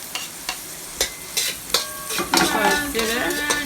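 Garlic is stir-fried in a pot with a steady sizzle and rhythmic scraping strokes of a utensil against the pot. The sizzle grows louder toward the end, heard up close.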